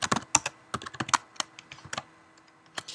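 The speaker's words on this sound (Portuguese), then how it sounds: "vai digitar a palavra router" Discrete keystrokes on a computer keyboard as a word is typed during network router configuration, each tap close and crisp, arriving in uneven bursts with short pauses between them and no talking.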